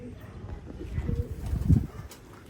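Pigeons coo softly nearby in a loft, low repeated throaty burbles rising and falling, with faint background rustle and distant ambience.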